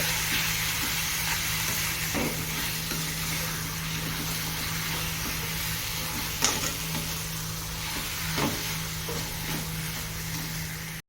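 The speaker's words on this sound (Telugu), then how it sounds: "ఇప్పుడు చికెన్ని దీంట్లో వేసేద్దాం. మంచిగా మిక్స్ చేసుకోవాలి." Chicken pieces are stirred into a curry base of mint and spices in a pan, with occasional scraping strokes over a constant sizzling hiss and a low steady hum, close and continuous without speech.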